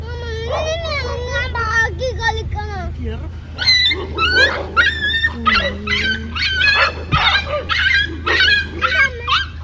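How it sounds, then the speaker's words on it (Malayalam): Five to eight dogs bark, yelp and whimper in overlapping bursts at night, fairly close, with a steady low hum underneath and people talking at times. "ഒരു അഞ്ചെട്ട് പട്ടിയുണ്ട്"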